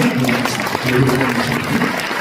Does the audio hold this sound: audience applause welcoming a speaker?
yes